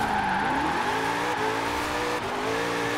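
Ford Shelby GT500 engine at full throttle in Forza Horizon 4, a loud, steady roar with rising revs through gear changes and faint tire noise, continuous and close throughout.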